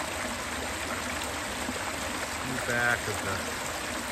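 Stream water runs steadily at the Peaks of Otter picnic area along the Blue Ridge Parkway in fall, a soft continuous wash heard close, with a brief voice over it near the end.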